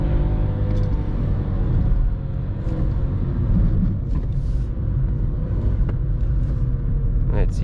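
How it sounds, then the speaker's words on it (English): A Skoda Fabia 1.0 MPI 60 HP engine drones steadily at full throttle with manual DSG gear shifts, a loud continuous in-cabin rumble with slight dips where gears change and faint voice-like sounds mixed in. "full throttle guys. DSG shifting guys, manual DSG shifting"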